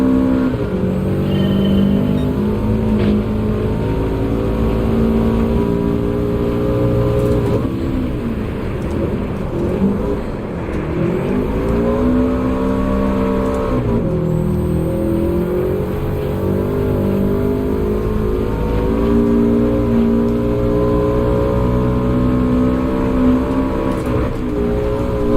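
Race car engine in Gran Turismo 7 holding revs in third gear, a loud continuous droning whine with rising and falling pitch sweeps as the car shifts and slows, close and steady throughout.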